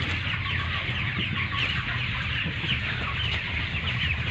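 A dense chorus of many chickens clucking continuously at a poultry farm during harvest, close by, with a constant crowded murmur and no talking.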